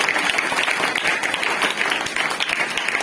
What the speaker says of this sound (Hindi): थोड़ा अच्छा ताली बजाइए।